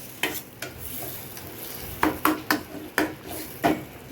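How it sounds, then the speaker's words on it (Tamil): Onion, tomato and ginger garlic paste sauté in oil while a spoon stirs and scrapes the pan, giving a soft sizzle under a series of close clacks and taps. "இது இன்னும் நல்லா வதங்கணும், எண்ணெயிலேயே நல்லா பேஸ்ட் மாதிரி வர அளவுக்கு வதக்க விட்டுருங்க"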